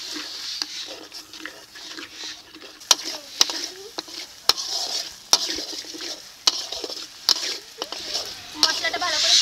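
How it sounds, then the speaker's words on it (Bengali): Spice paste with tomato puree is stir-fried in a pan, sizzling steadily while a spatula scrapes and taps against the metal again and again at close range. Someone talks intermittently over it. "আর দিয়ে দিচ্ছি টমেটো পিউরি। মশলাটাকে ভালো করে কষিয়ে নেব।"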